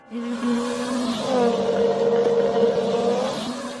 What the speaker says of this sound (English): A number of cars rush past